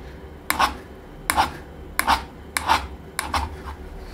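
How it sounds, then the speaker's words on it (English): Sharpening stone rubbed over the edge of a metal scraper blade to take off a tiny burr, five short separate rasping strokes at an even pace, close and fairly quiet. "very tiny burr, and we need to remove that with the stone before we go to the surface plate"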